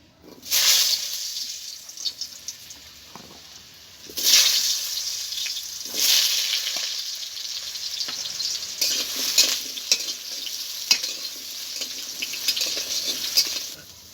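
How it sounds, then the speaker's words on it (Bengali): Cut potatoes fry in a pan with a loud, bright hiss that surges when they hit the oil and then settles into a steady crackle. Scraping stirs and bursts of sputtering recur throughout, all close-up, with no talk. "আলুগুলোকে ভেজে নেব"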